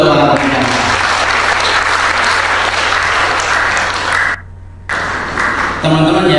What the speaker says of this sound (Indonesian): Tepuk tangan dulu buat para pembicara.